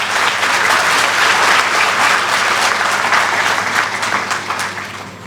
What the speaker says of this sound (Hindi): इस मंच से, इस परिवार की ओर से एक बार तालियां जोरदार हो जाएं।